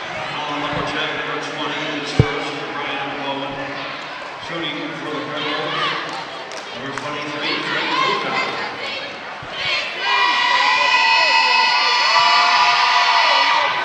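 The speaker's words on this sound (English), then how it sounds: "Man, you gotta love those shrill screams coming out from the crowd here." A high school boys basketball crowd in a gym during a free throw shouts, cheers and lets out shrill screams. The noise swells and builds to a loud, sustained roar, with a ball bounce and a commentator's voice over it.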